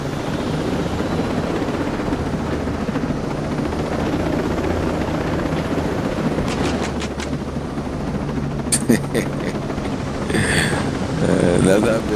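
Helicopter in the video game Ghost Recon Breakpoint, a continuous loud rotor drone with rushing wind, with a few brief sharp clicks and effects layered on top.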